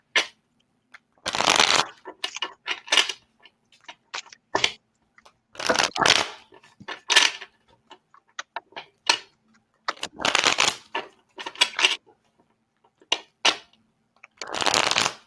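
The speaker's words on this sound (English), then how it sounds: "we are boringly shuffling" Playing cards being shuffled, repeated riffling bursts with short pauses between them, close and clear with no talking.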